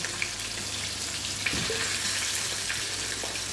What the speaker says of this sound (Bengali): পাট শাকটা যত একটু নরম আঁচে ভাজবে একটু টাইম নিয়ে হালকা আঁচে ভাজতে হবে